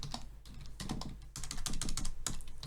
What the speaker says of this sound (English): if I can type correctly